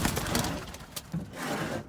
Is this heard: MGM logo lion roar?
no